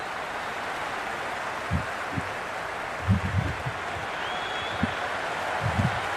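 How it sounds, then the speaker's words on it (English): Crowd in the stands at a T20 cricket match between RCB and Mumbai Indians, a steady distant roar of many voices with a few scattered, slightly louder bursts of cheering rising above it. "It's evident and ever so audible that the crowd is at near bursting point at today's play."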